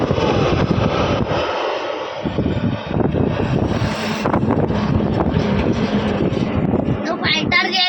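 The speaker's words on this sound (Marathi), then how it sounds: "तो फायटर जेट आहे." A fighter jet flying overhead near the sea makes a continuous loud roar that swells and shifts over nearly eight seconds, with voices talking beneath it.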